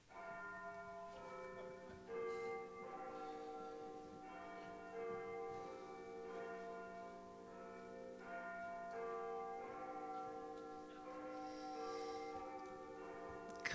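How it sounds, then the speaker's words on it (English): A multi-note doorbell chime rings out in a staged scene, its bell tones sounding in a repeating pattern for several seconds at moderate, clear volume. "He rings the doorbell."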